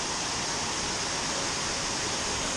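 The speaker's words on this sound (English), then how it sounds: "Look at this fucking waterfall" A large waterfall pours into a big swimhole beside a chasm cave, a steady, dense roar of falling water that fills the whole scene evenly and loudly, with no voices over it.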